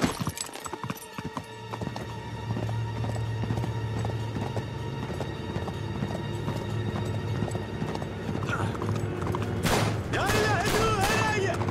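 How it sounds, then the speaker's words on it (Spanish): A horse gallops with steady, rapid clip-clop hoofbeats in the video game Uncharted 3, with bursts of gunfire and a faint whinny late on. "¡Ahí está mi caballo!"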